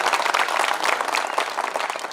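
A crowd at a Hindi comic poetry recital in Narsinghgarh breaks into brief, dense applause, many hands clapping close and loud in a steady patter.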